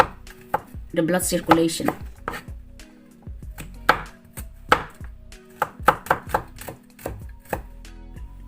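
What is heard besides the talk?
chopping fresh garlic into small pieces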